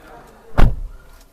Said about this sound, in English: we are going to close the door